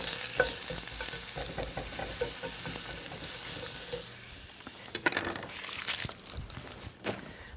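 Onion sizzles and fries in hot oil in a kitchen pan, a steady loud crackling hiss with scraping stir strokes throughout, turning into sharper intermittent clatters and spatters toward the end.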